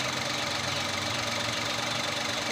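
A 2023 Toyota Wigo engine runs rough and shakes, a continuous close-up mechanical drone with an uneven knocking pulse, no talking over it.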